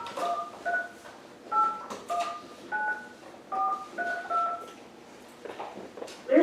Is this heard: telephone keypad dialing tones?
yes